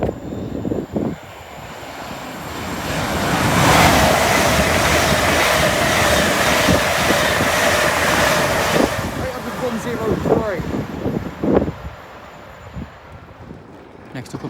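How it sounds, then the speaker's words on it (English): Fast train departing Newark Northgate station, a rising broadband rumble and roar that swells, holds for several seconds and fades, with a person talking nearby over the end. "it will be a fast train from London King's Cross to Harrogate"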